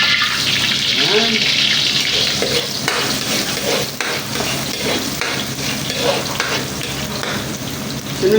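Garlic frying and being stirred in a pan for creamy salted egg pasta, giving a steady close sizzle with scraping stir strokes throughout.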